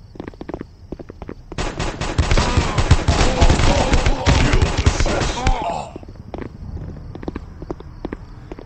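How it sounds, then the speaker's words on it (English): Dense bursts of rapid gunfire in the video game Guns of Boom crackle for several seconds, loud and sharp, with scattered single shots before and after. "There was a lot of gunfire going on there."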